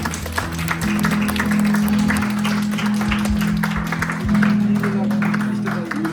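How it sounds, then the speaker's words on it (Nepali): A crowd at a Nepali church blessings gathering in Nagoya claps in sustained applause, a dense, even patter of many hands held at a fairly loud level throughout. "हामी ताली बजाउनेछौँ।"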